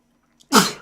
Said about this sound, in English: More sneezing.